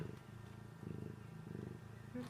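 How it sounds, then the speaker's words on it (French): A female pet cat purrs up close in a steady rhythmic rumble, with each breath cycle rising and falling. The purr is soft overall in a quiet indoor space. "Elle ronronne."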